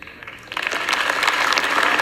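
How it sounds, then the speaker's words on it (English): Applause fills the House chamber, a dense wash of many hands clapping that swells in after a brief quieter moment and holds steady, loud and fairly close. "while they're clapping"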